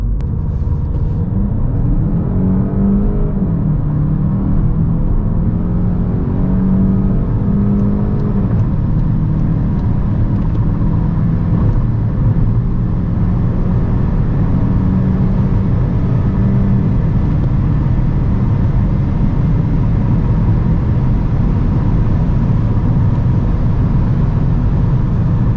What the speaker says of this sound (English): let's now see how fast the GTE goes from 100 to 200